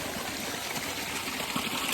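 Water rushes steadily through a gold prospecting sluice in snowy, icy conditions, a continuous close splashing trickle with no pauses.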